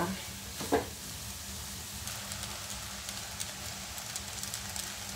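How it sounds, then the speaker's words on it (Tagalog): Instant pancit canton noodles are stirred in a pan with a soft, steady sizzle and light scraping, fairly quiet, with a louder clatter near the start and no talk. "Haluin na natin ng maayos."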